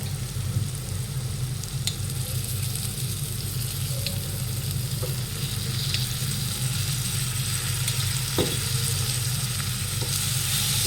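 Spices sizzle steadily in hot oil in a pan for biryani Maggi masala, a continuous dense crackle with a low hum beneath and no voices.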